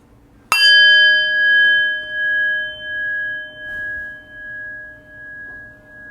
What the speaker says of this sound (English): in just a moment I will ring the bell